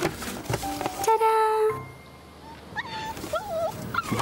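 A puppy gives out several high, wavering whimpers and yips at close range. They come through people talking and background music.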